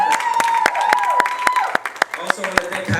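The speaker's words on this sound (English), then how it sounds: "can we give them a round of applause?" Conference crowd at a young adult church event applauding the organisers, scattered sharp claps and cheering mixed with a sustained tone and a voice speaking over it.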